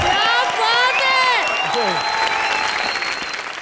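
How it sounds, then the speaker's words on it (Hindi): A television comedy studio audience applauds loudly and steadily for a fan, with cheers. Music with sliding tones plays over the clapping. "एक बार जोरदार तालियां राहुल आर्यन के लिए"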